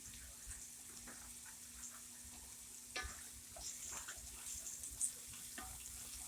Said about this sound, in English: I'm sauteing.